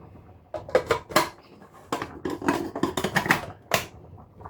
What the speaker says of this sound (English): And then we'll put the lid back on.